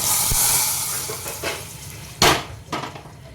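Hot tempering with curry leaves and asafoetida poured into rasam, giving a hissing sizzle that fades, followed by a couple of sharp clanks of the pan, close by.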